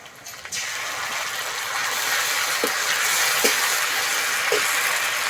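Ground spice paste hits frying onions in a pan for a rohu fish and gobindobhog rice dish, and a loud, steady sizzle swells up and holds, broken by a few faint spoon knocks.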